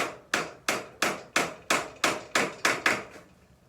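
A hammer drives nails while a broom is being made, about ten evenly spaced, sharp blows ringing out close by with no talking.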